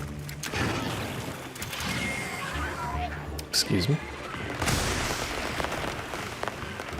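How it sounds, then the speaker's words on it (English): Crackling explosions go off in the video game Monster Hunter Wilds, dense bursts and pops over game noise, with a brief spoken aside partway through. "It's doing the triangle explosion thing again."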